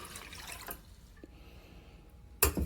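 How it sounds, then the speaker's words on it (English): Two cups of water poured into a pot for brown rice pilaf, a gentle splashing trickle that fades, then a sharp knock near the end, recorded close with no voice. "2 cups of water"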